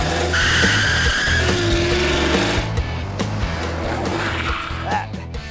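A car with a body designed to run in reverse drives a test track at around 50 mph, its engine droning steadily and loudly with a whining tone and some tire noise, with no talk.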